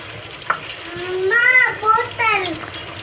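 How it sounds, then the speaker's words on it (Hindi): Water pours from a bottle into a pan of simmering chicken gravy. It makes a close, bright rush of splashing over a steady sizzle, and a voice speaks briefly at the same time. "अब यहाँ पे हम 1 कप पानी डालेंगे ताकि ये चिकन में जो कसर रहेगी वो भी गल जाए।"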